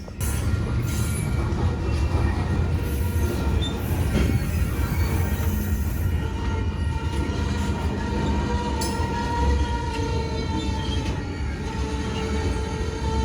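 Union Pacific grain train of hopper cars rolling slowly past in Sacramento, a continuous close rumble of wheels with intermittent squeals and clatter throughout.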